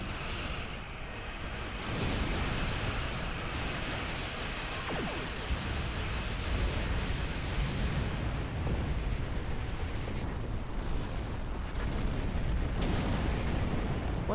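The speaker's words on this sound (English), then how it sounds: "Oh, the plasma cannon." Plasma cannon fire in the Star Trek Online space game: a dense, continuous roar of blasts and bursts hitting steadily for the whole stretch, loud and close with no pauses or voices.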